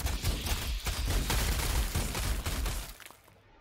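Rapid gunfire in the Warhammer 40,000: Sanctus Reach strategy game, a dense loud barrage of overlapping shots that rattles on for about three seconds before cutting out into quiet.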